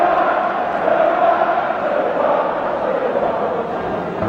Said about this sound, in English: Arsenal crowd reminding us of the score.